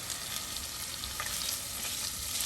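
Food fries in oil in a pan, giving a steady, close, crackling sizzle with occasional pops and no talk.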